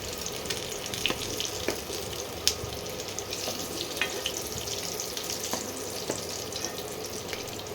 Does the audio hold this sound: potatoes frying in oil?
yes